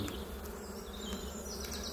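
A honeybee swarm gives off a brief, even drone, a constant close buzz of many bees with no talk.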